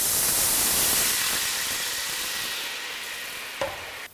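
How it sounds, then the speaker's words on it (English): Wine is poured into a hot pot of braised bison to deglaze it, raising a loud burst of sizzling and steamy hiss that gradually fades, ending in a small clink. "So the next step of the recipe is to deglaze my pot."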